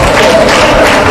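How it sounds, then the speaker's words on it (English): Audience clapping and cheering for the parents at a physiotherapy profession induction ceremony, a dense, loud, steady wash of applause from a crowd filling the whole moment. "A round of applause for them."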